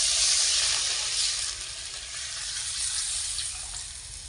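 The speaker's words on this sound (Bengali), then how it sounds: "এখন আমি মশলা বাটা ও শিল ধোয়া জল দিয়ে দিচ্ছি।" Spice paste and grinding-stone rinse water hit a hot pan while a Bengali fish curry cooks, giving a steady, close, loud sizzling hiss that eases slightly midway, with no talking.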